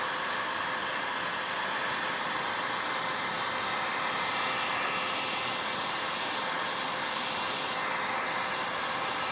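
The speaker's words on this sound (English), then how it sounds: "You want a heat gun that's going to be higher than 1500 watts so that you'll have enough heat" A heat gun rated above 1500 watts blows hot air onto woodburning gel spread on a wooden cutting board, giving a steady, loud, even rush of air from start to finish with no talking.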